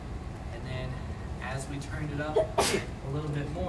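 A single short sneeze bursts out mid-sentence during a lecture on nerve stimulation and paresthesia, standing out briefly over a steady voice that keeps talking around it.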